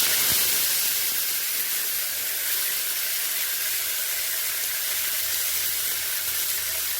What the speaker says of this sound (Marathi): मोहरी तडतडली आहे मोहरी आता त्याच्यामध्ये आपण ही मेथी टाकून घेऊ